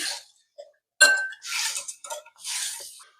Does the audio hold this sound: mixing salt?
yes